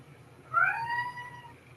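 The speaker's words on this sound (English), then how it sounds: "Is that your cat?" A pet cat gives a single clear meow during a library trustees meeting, fairly close and prominent over a low background hum, with no speech around it.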